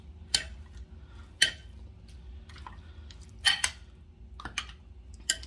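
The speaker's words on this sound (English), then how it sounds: "So I'm stirring in the curry and the seasoning into the meats" Curry and seasoning being stirred into chicken back in a pot, with sparse scraping clinks of a utensil against the metal and soft wet squishes at irregular intervals over a quiet low hum.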